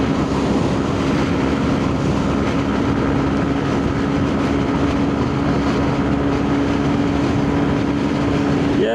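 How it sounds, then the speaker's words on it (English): Honda CB125F motorcycle riding at high speed, around its top speed in wind, with a loud, steady high-pitched engine drone and constant rushing wind noise throughout. "Feeling a little vibration in the handlebars now, and the engine note sounds pretty high."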